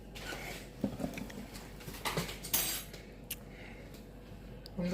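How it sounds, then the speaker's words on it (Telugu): Eggs beaten for an omelette with a spoon or fork in a bowl, giving quiet, irregular clinks and taps of metal against the dish with a faint steady background hum. "ఇప్పుడు గుడ్లు అయితే వాళ్ళు కొట్టాం."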